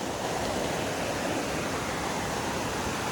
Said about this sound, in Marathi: पाणी बघा काय मस्त वाहत चाललंय